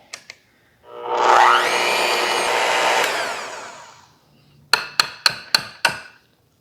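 A handheld electric mixer with beaters whirs steadily through cake batter for about three seconds, then winds down, followed by five sharp taps as the beaters are knocked against the bowl rim.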